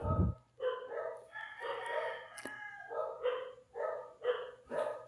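Dogs bark in repeated short bursts, joined by a rooster crowing nearby, all in an irregular back-and-forth over a faint low hum.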